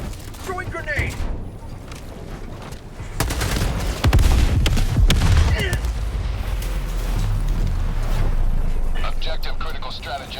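A grenade blast in Helldivers 2 against an Automaton outpost: a heavy boom about four seconds in, set among bursts of rapid gunfire and a spoken voice.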